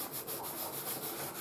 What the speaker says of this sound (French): je viens le frotter comme ça